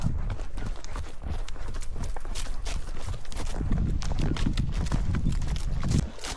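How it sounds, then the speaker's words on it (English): A ridden horse clip-clops along a bush track, its hooves striking in a steady, close walking rhythm with faint rustling around them. "I was riding Saphira"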